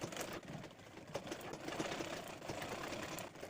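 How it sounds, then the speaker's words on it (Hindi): A sewing machine runs a finishing seam on blouse fabric, giving a faint, fast, continuous mechanical stitching rattle with no pauses and no speech. "ऊपर से फिनिशिंग के लिए और एक सिलाई लगा देंगे हम"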